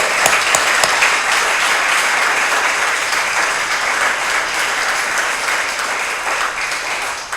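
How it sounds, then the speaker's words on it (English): Sustained audience applause fills a community-access recorded evening event of diverse voices, a dense steady wash of many hands clapping at a fairly loud level, holding evenly for several seconds before tapering slightly at the end. "Give yourselves a round of applause,"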